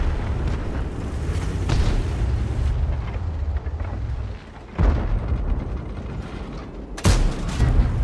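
Tank cannon shots from a T29 in World of Tanks, heavy booming blasts at about 4.8 and 7 seconds over a constant low rumble of engine and battle noise.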